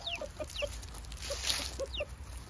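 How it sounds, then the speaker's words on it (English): Hens and a rooster cluck nearby in a steady scatter of short, soft calls with no crowing. "the hens are curious. The rooster, he's pretty curious too."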